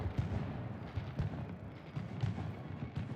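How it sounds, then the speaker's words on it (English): Repeated booming bursts of a street fireworks celebration in the Star Wars Outlaws video game, a steady run of deep thuds and crackling pops at moderate distance with no talk over them. "I walked outside to see a fireworks show going on,"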